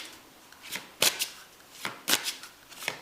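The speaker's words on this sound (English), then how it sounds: "So I'm going to pull some guidance cards to finish." Guidance cards being shuffled at the end of a spiritual card reading, with several crisp riffling bursts in an uneven rhythm, close and fairly loud in a quiet room with no talking.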